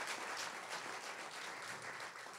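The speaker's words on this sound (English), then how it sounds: "A huge round of applause for all of our storytellers tonight." A storytelling slam audience applauds the night's storytellers, a soft, distant-sounding wash of many hands clapping that holds steady and faint across the moment.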